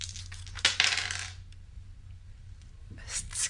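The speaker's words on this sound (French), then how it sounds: "tire les dés au cas où" Dice clatter onto a table during a tabletop role-playing game: a quick rattling burst, then a quieter pause and another short clatter at the end, close by with no voices.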